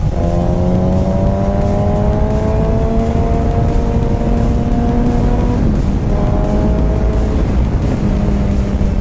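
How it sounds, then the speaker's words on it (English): A 2008 Suzuki Hayabusa motorcycle accelerates hard. The engine is loud and close, its pitch climbing steadily, then dipping briefly at a gear change before rising again. There is no talk. "I kind of want to see what this bike can do"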